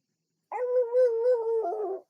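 A dog lets out one sustained, wavering whine close by, rising into a howl-like tone for about a second and a half before trailing off, with silence before it and no talking.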